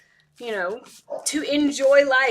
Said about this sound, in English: You guys might hear my dog in the background.